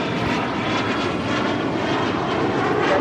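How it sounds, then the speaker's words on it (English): A Gulfstream G280 business jet takes off from runway 25 right at LAX, giving a loud, steady, close roar that fills the whole moment without a break. "It's a Gulfstream G280."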